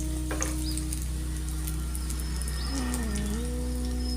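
Bread pakoda bites deep-frying in hot oil, a steady soft sizzle running throughout at moderate level, with faint bird calls in the background.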